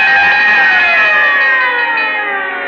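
A wailing fire-engine style siren sounds as the signature of a Texaco Fire Chief Gasoline radio program, loud and close, its pitch sliding slowly downward as it winds down.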